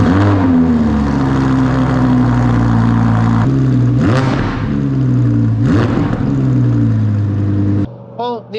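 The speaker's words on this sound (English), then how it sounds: "It's just got a really good high-pitched scream when you're on full chat." A Lamborghini Huracan fitted with a Quick Silver valved exhaust revs loudly and close by, its engine note sweeping up into a high-pitched scream several times over a steady throbbing drone.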